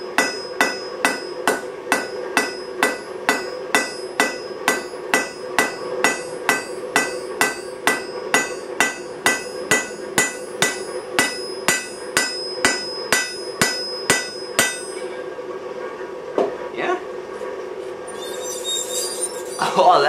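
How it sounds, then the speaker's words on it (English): A hammer pounding a nail flat while forging tongs, a fast steady run of loud ringing metal-on-metal strikes close by, growing more irregular and scraping toward the end. "grab a hammer, and punch that flat."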